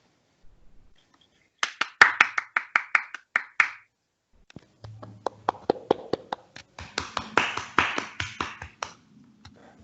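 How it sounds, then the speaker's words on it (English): Scattered applause from an online audience at the end of a talk, thin uneven claps in two bursts separated by a short pause, close and fairly faint. "These are random claps, I guess, because not everyone has his mic on"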